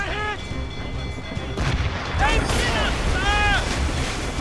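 Naval cannon fire in Assassin's Creed Rogue, booming blasts and crashing impacts on a ship amid surging sea noise, with crew shouting over the battle.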